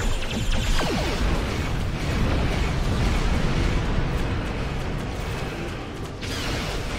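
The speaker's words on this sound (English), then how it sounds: "Wait, did this fire a torpedo while cloaked?" A torpedo fires in the Star Trek Online space combat game, a loud, dense rumbling boom that holds nearly steady for several seconds and fades slightly toward the end.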